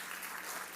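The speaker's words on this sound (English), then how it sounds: "please give her a round of applause" At the 2023 Last Girl Award ceremony, a crowd applauds author Ruchira Gupta with a short, dense burst of even clapping that fills the room.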